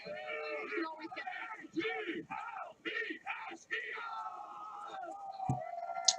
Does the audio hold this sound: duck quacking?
no